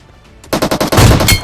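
Rapid video game gunfire with a suppressor: a quick burst of about ten loud, close shots in a fast, even rhythm that starts abruptly after a near-silent moment.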